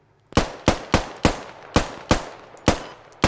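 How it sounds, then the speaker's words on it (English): AK rifle gunfire in the combat game Squad: about nine sharp, loud single shots fired at a steady, quick rhythm, each with a short echoing tail. "That's AK somewhere."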